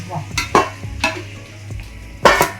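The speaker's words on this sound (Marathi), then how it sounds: "मसाला टाकून पुन्हा एकदा आपण ते चांगलं ढाटून घेऊया" Mutton keema with masala is stirred in a pan, with several distinct scraping strokes of a spoon over a low, steady sizzle, loudest near the end.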